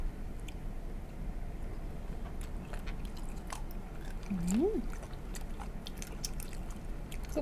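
Raw, fresh squid sashimi is chewed close to the mic, a quiet run of soft, wet crunches and sticky clicks in an irregular rhythm, with a brief faint vocal sound partway through.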